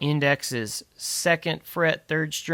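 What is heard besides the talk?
No distinct noise like a dog, phone or traffic.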